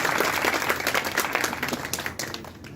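Audience applause at a Hindi-language function after a devotional performance, a dense burst of many hands clapping that thins out toward the end, with no talking.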